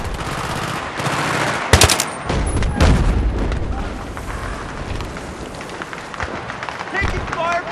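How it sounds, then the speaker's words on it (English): Gunfire in the Battlefield 3 campaign, with bursts of rapid shots and booms layered over running and game noise, loud and dense near the start, then easing into rattling background fire. "Taking fire from the stone wall, dead ahead, 150 meters."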